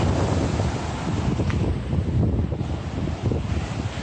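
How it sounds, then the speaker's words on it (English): The Chama River, swollen and raging, roars as a dense, continuous rush of turbulent water heard close by, with gusty wind buffeting the microphone over it and no voices. "Check out the Chama River. This baby is raging."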